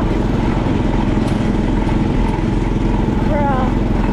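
Go kart engines drone loudly and steadily on a racing track, a close, buzzing engine roar that holds throughout, with voices underneath.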